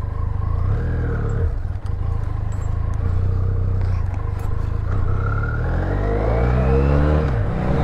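A rented motorcycle engine runs steadily and loud up close, a smooth constant idle hum that rises into a climbing rev toward the end, with no talking.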